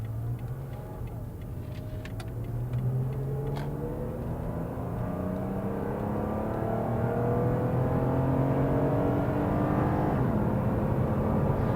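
A Toyota RAV4 V6 Sport's 2GR V6 engine pulls hard from inside the cabin, its tone climbing steadily through the gears with a brief dip at a shift, loud and continuous with no talking.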